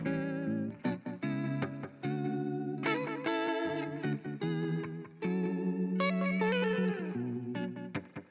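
Electric guitar with an echo effect added through the Martinic Retro Pack plugin, strummed chords and sliding notes with a wavering, repeating tail, close and steady with no voices.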